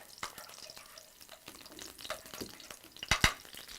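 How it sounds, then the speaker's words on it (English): Coconut oil, about three tablespoons, sizzling and popping in a hot pan, with a steady close crackle and a few sharp louder pops near the end. "And it's sizzling."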